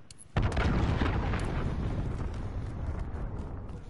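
Cruise missile blast in Call of Duty Modern Warfare: a sudden loud boom after a brief quiet moment, followed by a long, heavy rumbling roar that slowly fades.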